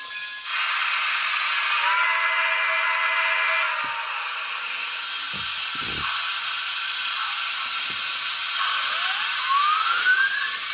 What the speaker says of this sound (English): listen to the whistle here